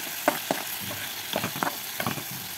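Ground spices and two tomatoes fry in a pan for a small-fish curry, a steady close sizzle punctuated by several sharp clatters of stirring, with no voices.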